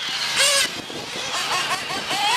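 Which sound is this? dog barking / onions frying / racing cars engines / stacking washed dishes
racing cars engines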